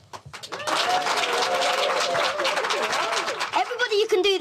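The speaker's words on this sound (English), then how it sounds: "If it's wrong, I just want you to clap out of politeness anyway" Audience applause with cheering breaks out after a stage mind-reading prediction on a magic show, a loud sustained wash of clapping and whoops that tapers into scattered claps and voices.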